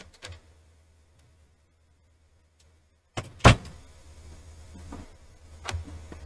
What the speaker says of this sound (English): I need to close my door.